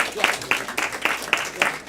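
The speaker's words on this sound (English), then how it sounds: "Clap for yourselves." Audience at a live main event clapping for themselves, a steady run of group applause with sharp repeated hand strikes standing out roughly every quarter second, fairly close and lively.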